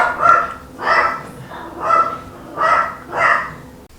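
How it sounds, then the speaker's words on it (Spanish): A small chihuahua barks indoors, five sharp barks spaced roughly evenly, each loud and close with no talk over them. "si escuchan ladrar,"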